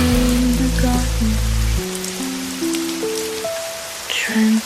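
Rain falls steadily outside a seaside cafe, a soft continuous patter beneath sustained music tones that shift and fade partway through.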